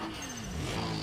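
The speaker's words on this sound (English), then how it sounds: "Koji Yagamata and his Supra. I love that noise, that 2J though." A Toyota Supra with a 2JZ engine in the racing game ProStreet holds a steady, throaty engine drone that rises slightly in pitch, loud and alone for about a second.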